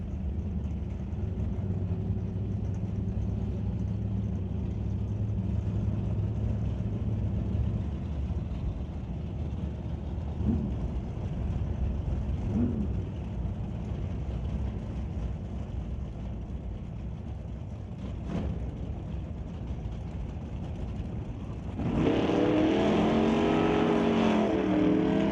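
Drag racing cars, including a 1978 Malibu, roar down the strip in a steady engine drone that swells into a louder, rising engine howl near the end.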